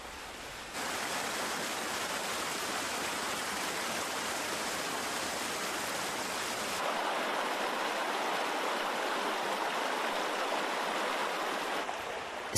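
Waterfalls on Mount Tai in China roar as a steady, dense wash of falling water, continuous and fairly close, shifting slightly in tone midway with no voices.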